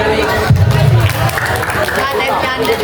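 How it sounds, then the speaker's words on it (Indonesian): Crowd of students at an Islamic school Ramadan gathering clapping and cheering in a loud, dense burst with a rhythmic swell near the start, blended with babble and hubbub. "Ketika Bapak sudah tepuk tangan satu, tepukan selanjutnya."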